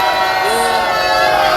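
Rally crowd at a protest gathering cheering and clapping loudly for a pastor introduced on stage, a dense close wall of voices and applause.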